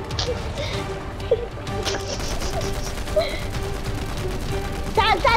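Rapid bursts of video game gunfire from Fortnite, with sharp shots and clattering fire layered over steady in-game ambience and team chatter.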